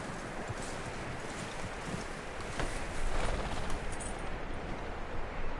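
Horse hooves clip-clop at a steady walking pace in Red Dead Redemption 2 against a constant wind-like rush, the steps blending into the broad noise at moderate volume.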